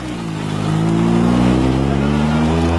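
A Renault Clio Maxi rally car engine revs hard and roars steadily, its loud rising drone holding as the car pulls away.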